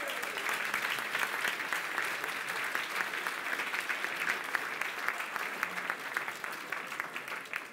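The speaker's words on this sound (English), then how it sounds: "A big round of applause." Auction-room audience applauding after a lot is sold at a charter barons auction in Lincoln, a steady, dense clapping that holds evenly for the whole stretch, moderately close.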